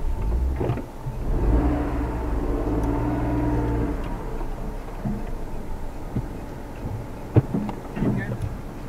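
A manual car reversing slowly along a narrow, winding street, a low engine drone that swells early and then settles, with a few sharp knocks and a voice talking faintly over it.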